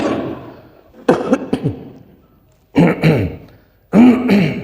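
A man clears his throat and coughs in short harsh bursts during a Friday sermon in a mosque, three close, loud clusters separated by brief pauses, with no talk over them.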